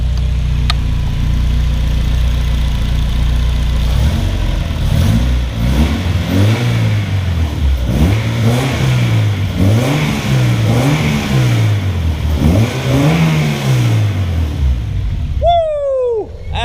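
A K20-swapped Honda Civic EG race car engine fires up and revs repeatedly in loud rising-and-falling sweeps over a rough idle, close to the microphone, ending with a sharp high squeal.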